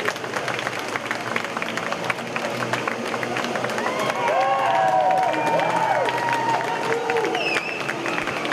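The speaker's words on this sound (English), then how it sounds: "Loud cheer for the local driver, as you would expect" A crowd at an F3 Asian Championship race trophy ceremony cheers and applauds for the local driver, a moderate swell of clapping and shouts that grows louder midway, with a voice briefly audible over it.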